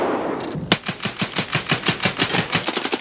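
Rapid automatic gunfire in the shooter game Escape from Tarkov, a sustained burst of sharp evenly spaced shots following an initial rough noise, loud and close.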